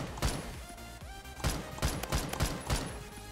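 Rifle fire in Roblox Phantom Forces: a series of sharp, punchy gunshots spaced irregularly, roughly six distinct cracks over a few seconds amid softer game effects and tonal sweeps, fairly quiet overall.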